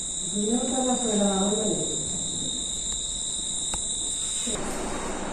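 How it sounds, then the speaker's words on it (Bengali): Crickets chirp at night in a village, a constant shrill high trill running through the whole stretch, while a person talks over it near the start. "এখন তো রাত্রিবেলায় তো জিজি পোকার ডাক শোনা যাচ্ছে অবশ্যই"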